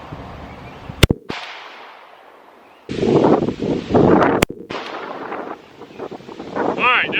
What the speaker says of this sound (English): Now I'm going to shoot another one.